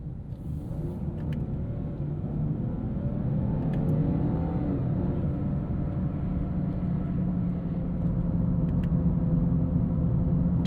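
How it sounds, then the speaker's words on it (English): A 2017 Ford Fusion Sport sedan with a twin-turbo V6 cruising at low speed, heard as a steady low engine and road rumble from inside the cabin, with a slight swell in revs partway through and no talking. "aren't we in for a treat for some low-speed driving in the Fusion Sport?"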